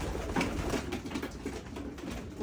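Pigeons coo softly during free flight training, a brief low murmur with steady background noise and no talk.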